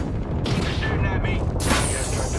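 Video game enemies open fire in bursts of heavy shooting and booms, loud and dense, with a shield-recharge hum in the mix and no speech heard.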